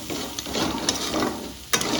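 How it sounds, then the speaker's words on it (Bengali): Potatoes frying in a home kitchen pan give a steady, close sizzle with occasional stirring scrapes and brief louder bursts, no voices over it. "এদিকে দেখো আমার আলু ভাজাটাও প্রায় হয়ে গেছে"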